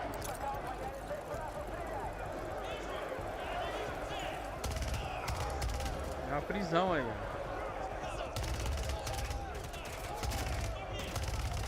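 Rapid bursts of video game gunfire during a prison riot crackle beneath continuous talking, with a brief voice sounding over the shooting midway through.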